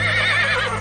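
A horse in a Hindi horror audio drama gives one close, loud, quavering whinny that fills the short moment over a steady low hum.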